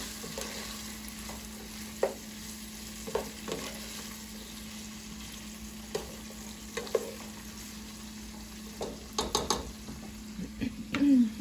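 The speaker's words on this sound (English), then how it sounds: "We want to make sure we're stirring our onions up." Onions sauté in a pot for Palestinian rice and lentils, a soft steady sizzle running underneath while a utensil stirs and scrapes in scattered light knocks, quiet and close.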